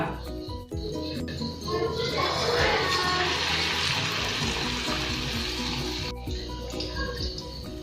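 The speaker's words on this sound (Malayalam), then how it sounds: "എന്നിട്ടിത് എണ്ണയിലിട്ടൊന്ന് പൊരിച്ചെടുക്കാം കേട്ടോ" Battered banana fritters, Kerala pazham pori, sizzle in hot oil, a steady broad hiss that swells and then eases, with a person talking over the frying.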